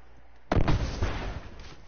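A smoke bomb goes off in a multiplayer match of The Last of Us Remastered. It opens as one sudden loud burst and then becomes a thick, hissing rush that holds steady for over a second.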